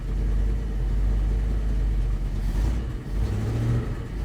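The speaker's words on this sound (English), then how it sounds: "We have a running truck." A 1973 Dodge D100 truck's engine runs steadily with a low, rough rumble close by and a slight change in tone near the end.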